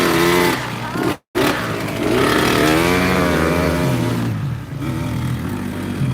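A motocross motorcycle rides through a muddy rut, its engine revving loudly and close with rising and falling pitch, cutting out for a moment before pulling hard again.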